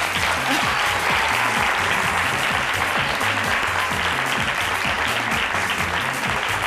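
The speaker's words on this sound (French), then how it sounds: "Merci à vous, enfants, de les applaudir." Steady, dense applause from a group of children, loud and continuous throughout with no pauses.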